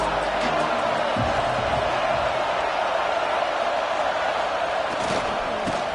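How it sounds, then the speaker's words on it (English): Roaring stadium crowd at a college football game between Texas A&M and Ohio State, a dense, constant wall of cheering and noise with a few sharp shouts, heard alone at high level. "This crowd trying to make life miserable for this offense."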